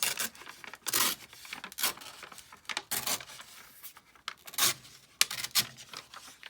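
Paper being torn along a ruler at a craft table, a run of rough, rasping rips and scrapes in short uneven strokes, close and fairly loud, with no voices.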